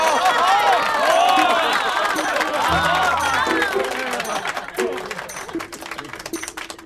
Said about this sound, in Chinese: 下面让我们用热烈的掌声有请二位新人步入婚礼的殿堂。